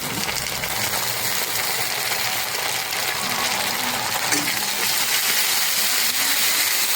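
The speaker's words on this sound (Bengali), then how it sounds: "জল দিয়ে দেবো" Water is poured into a cooking pan holding fried onions and ginger paste, making a continuous loud rushing, sizzling hiss up close that stays fairly even from start to finish.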